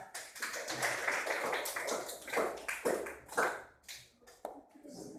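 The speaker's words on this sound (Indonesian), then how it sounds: "Tepuk tangan untuk kelompok 2." A classroom of students claps for group 2, a loose, uneven patter of hand claps rising and falling over several seconds, fairly close and unaccompanied by talk.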